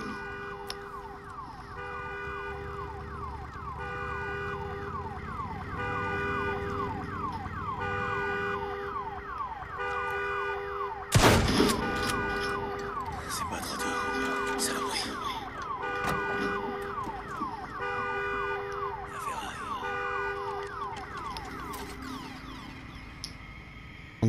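A blaring alarm horn in the video game Days Gone, sounding continuously in a repeating rising wail for over twenty seconds, loud and steady, with a sharp crash midway and other game noise underneath.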